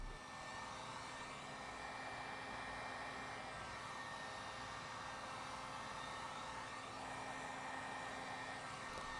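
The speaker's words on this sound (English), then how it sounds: "Take your heat gun and put some heat on the finger bubble and squeegee down on it." A heat gun blows hot air onto window tint being shrunk on a frameless coupe window of a Dodge Challenger, a steady, close broadband whoosh holding without pause throughout.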